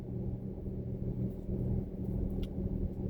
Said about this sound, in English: Hopefully the fan's not going to be too loud.